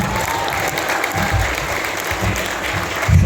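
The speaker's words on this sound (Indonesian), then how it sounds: "Boleh tepuk tangan." An audience applauds after a poetry reading at a school seminar, with steady, fairly close clapping that swells briefly near the end.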